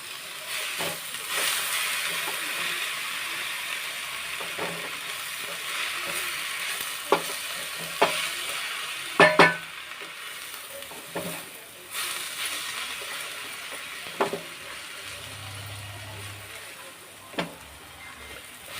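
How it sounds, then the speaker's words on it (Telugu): Drumstick leaves fry in hot oil with tempering spices, giving a steady broadband sizzle with scattered stirring clinks and scrapes throughout, and brief low knocks near the end. "ఆకు బాగా ఆయిల్లో కొంచెం అదే ఈ పోపులో వేగాలి బాగా"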